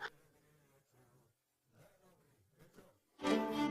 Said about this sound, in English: Everywhere you see the bees are flying.